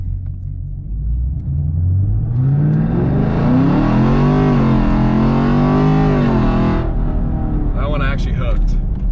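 A 6th-gen Camaro SS making about 500 wheel horsepower on Mickey Thompson drag radials launches on a 0-60 run. A loud, close exhaust roar rises steadily in pitch through the gears, then cuts off sharply as the car lets off.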